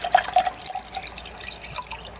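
Water poured into an MRE chili and macaroni pouch, a short close trickle with a few bright drips and gurgles at the start that fade to a quieter pour.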